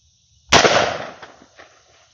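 A single loud, sharp gunshot cracks as Hornady TAP expanding ammunition is fired into wood, followed by a short decaying echo and a few faint clinks.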